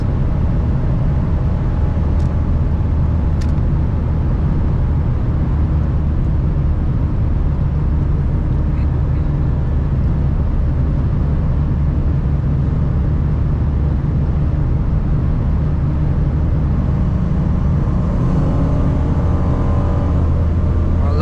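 A Ford Mustang engine drones steadily from inside the car while driving on roads in Germany, a loud continuous low rumble with faint road noise, no talk over it.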